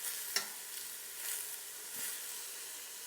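Onions frying in a stock pot, a soft steady sizzle with faint hissing and a brief stir or clink near the start, quiet and close with no talking.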